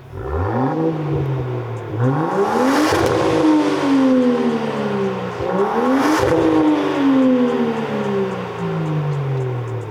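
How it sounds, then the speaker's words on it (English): A 3-litre V6 with a quad-pipe exhaust system, the type made for a Defender P400, revs up twice with loud rising blips and settles back to a throaty idle in between, close and with no voices. "It's the exhaust that we do for the P400, which is a 3-litre V6. So as you can see, quad pipes. And yeah, give it a little rev for us, Sean, please."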